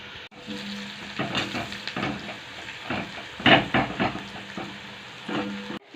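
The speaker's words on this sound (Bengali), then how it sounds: "পেঁয়াজ রসুন ভালো করে ভাজা ভাজা করে লাল লাল করে তারপরে শাকটা দিয়ে দেবো" Water spinach frying in a pan with onion and garlic, a continuous loud sizzle broken by scraping stirs and clinks of a utensil against the pan, close up with no talk.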